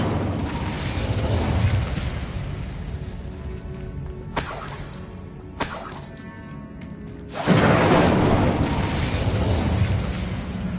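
An Incendio fire spell is cast in a video game: a sharp burst and shattering crack break through a noisy backdrop, followed by two brief bright snaps and then a loud, sustained fiery whoosh that lingers.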